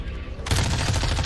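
Rapid automatic fire from an MP5-style Lachmann Sub submachine gun in the Warzone 2 video game begins abruptly after a quieter moment and continues as a dense, steady burst.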